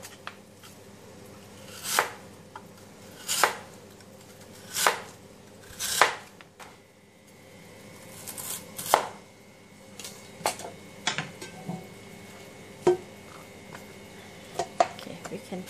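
A knife chops through lotus root into thin slices on a board, cutting a series of distinct, sharp strokes spaced roughly a second apart, close and clear, with softer irregular taps and kitchen clatter between them.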